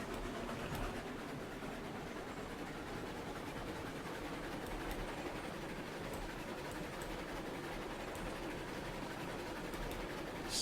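Train rolling on rails in the video game RailRoads Online, a faint, steady rumble with a fine clatter of wheels running throughout, no distinct clicks standing out and no talking.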